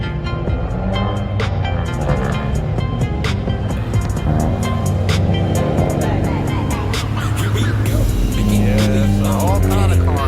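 Outdoor car meet in Montrose, Montgomery County, with a steady loud wash of idling and passing car engines, some revving and rumbling throughout, with people talking in the background.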